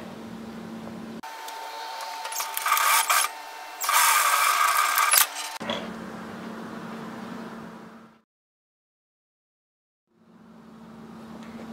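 A sewing machine stitches a quarter-inch seam on a fabric coffee holder bag in rapid bursts between pauses and a silent gap, close and fairly loud, with no voices.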